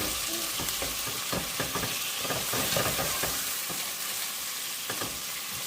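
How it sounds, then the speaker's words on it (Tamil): Chopped tomatoes hit golden-brown onions frying in a pan for a crab fry, giving a loud, steady sizzle with scattered crackles and stirring scrapes, no talking. "இப்போ இந்த ஸ்டேஜில் வந்து தக்காளி, நம்ம கட் பண்ணி வச்சுருக்க தக்காளியை இதில் ஆட் பண்ணிக்கோங்க."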